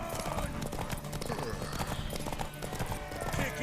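A horse trots in The Witcher 3 video game, hooves clip-clopping in a quick, even rhythm close by, mixed with game ambience and background noise.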